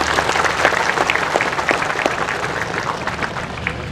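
An audience at an Indonesian social affairs event applauds in a steady, dense round of clapping, loud and close, sustained throughout without speech.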